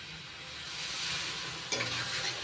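Mango pulp and thickened milk stirred together in a pan over low heat for ripe mango halwa, a steady soft scraping swish with a brief louder stroke near the end, no voices.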